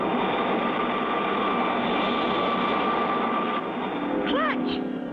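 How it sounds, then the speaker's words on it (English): Steady, loud roar of animated third-stage rocket engines firing continuously, a broad jet-like rumble that holds evenly throughout, with brief warbling tones rising over it near the end. "The second the third stage rockets light up."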